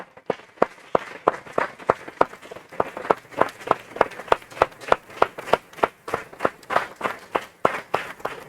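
An audience at a formal academic induction ceremony claps steadily, a fairly sparse room producing distinct, rhythmic hand claps that stay even and moderately loud.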